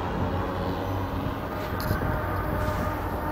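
A train passes close by, a loud, continuous low rumble and broadband roar that holds steady throughout without talk.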